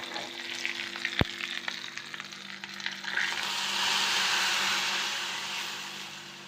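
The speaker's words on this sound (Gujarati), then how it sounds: "મસ્ત મજાનો વઘાર થઈ ગયો છે કઢીનો" Mustard seeds, cumin, fenugreek powder, bay leaves and curry leaves crackle in hot oil as tempering for Gujarati kadhi, a close sizzle that swells into a loud, steady hiss in the second half, with one sharp click early on.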